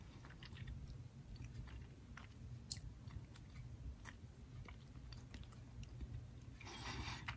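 Someone chews a piece of advent calendar chocolate at close range, with soft repeated wet bites and mastication under a steady faint background hiss.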